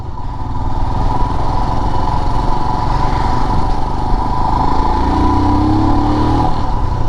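A Royal Enfield Himalayan BS6 motorcycle idles and runs close by with a steady, loud engine drone and thumping low rumble throughout, rising slightly in pitch near the end.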